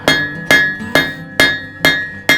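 Hot iron nail forged on an anvil by a blacksmith: six sharp ringing hammer strikes in a steady, slightly uneven rhythm, each with a bright metallic ring that decays before the next blow, close and loud with no voices.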